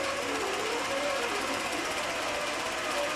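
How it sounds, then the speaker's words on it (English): A longarm quilting sewing machine stitching a pantograph pattern across a partial row of a quilt, a steady loud continuous mechanical whir with no pauses. "I'm just adjusting the speed on the machine to change the stitch on it."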